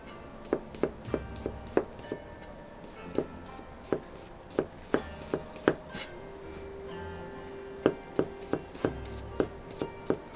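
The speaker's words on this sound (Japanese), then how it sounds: "なるべくちょっと薄いめに刻んでおいた方がさっと火が入って調理ができますから、薄めに刻んでください" A knife thinly slices winter vegetables on a board in a Kyoto-style kitchen, producing crisp, evenly spaced chopping taps in quick runs with brief pauses, close and clear with no talking.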